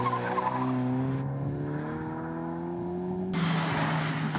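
A Renault Clio RS runs an autoslalom course at Neuhardenberg, its engine note climbing and falling in clear rising harmonics with tyre noise, heard close and fairly loud.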